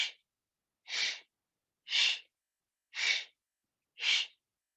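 Five short, sharp breaths out during a core and hips exercise routine, evenly spaced about a second apart, close and isolated with silence between them.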